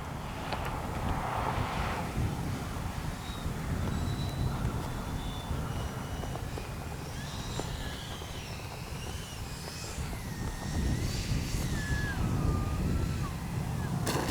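A Freewing 90mm Zeus RC jet comes in to land with gear and flaps down, its ducted-fan whine rising and falling in pitch over steady wind buffeting, with a voice talking over it.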